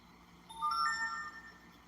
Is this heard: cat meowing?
no